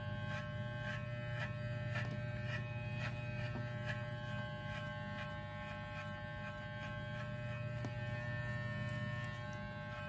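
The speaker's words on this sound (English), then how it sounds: "put your number one guard on your clipper, make sure it's all the way open, and swing on an angle" A Walmart electric hair clipper fitted with a number one guard buzzes steadily and close up, a constant motor hum with faint rhythmic ticks as it sweeps through hair, no talking.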